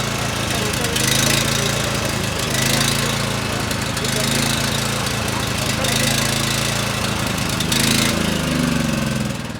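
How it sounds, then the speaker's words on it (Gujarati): A Swaraj Code mini tractor's petrol engine runs close by with a loud, continuous, clattering chug that keeps a steady rhythm from start to finish, with slight swells in intensity. "ચાલુ કરીને તમને આનો જરીક અવાજ સંભળાવી દઉં કે ભાઈ પેટ્રોલ એન્જિનનો અવાજ કેવો છે"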